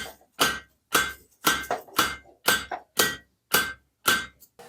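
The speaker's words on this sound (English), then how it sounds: "I'm just going to keep hitting my anvil" A blacksmith's hammer strikes hot metal on an anvil during forging, eight loud, ringing blows in a steady rhythm, each followed by a softer rebound tap, heard up close with no talk.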